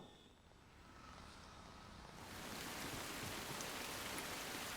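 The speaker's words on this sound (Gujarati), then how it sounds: "ઠેર ઠેર વરસાદી ઝાપટા પણ શરૂ થઈ ગયા છે" Rain showers fall in Ahmedabad, starting as a faint, soft hiss that swells after a couple of seconds into a steady, even wash of rain, heard from a distance with no voices.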